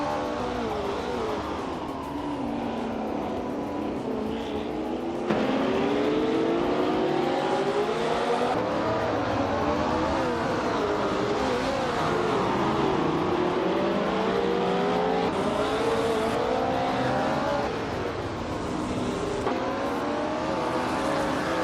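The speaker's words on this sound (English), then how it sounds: "Scuderia Veloce is leading in a vintage ultralights race with a 1965 Cooper Type 61 Monaco" Vintage 1965 Cooper Type 61 Monaco and other ultralight race cars roar continuously in a video game race, engine notes rising and falling through gear changes as cars jostle closely, loud and steady throughout.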